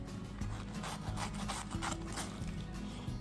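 A small knife cuts through a jackfruit with a steady, rhythmic rubbing and rasping, as though sawing through a fibrous rind. The strokes are close and fairly quiet, with no talk over them.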